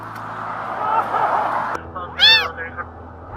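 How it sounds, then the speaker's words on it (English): A stranded kitten on a highway gives a few loud, high rising meows close by after a stretch of traffic rumble and background noise. "troopers step in quickly to rescue a stranded kitten before traffic turns the situation dangerous"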